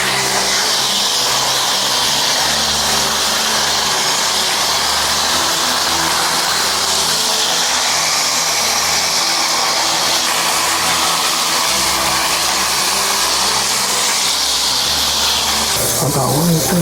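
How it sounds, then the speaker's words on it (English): A loud, steady blow dryer with a diffuser drying hair roars with a broad airy hiss, its pitch wavering slightly as it moves, ending with a brief shift near the end. "we're gonna diffuse the hair to create some texture and some curls"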